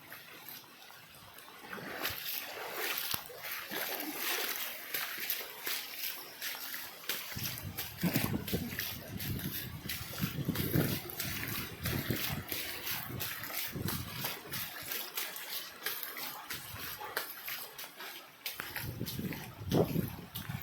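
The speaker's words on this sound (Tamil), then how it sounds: "இந்த வடிகால் பாருங்கள் அப்படியே ஓடிட்டுருக்கு குடியிருப்பு பகுதியில்" Water flowing through an open sewage drain in a residential area, a steady rushing trickle and splash that runs throughout, with a person talking over it at times.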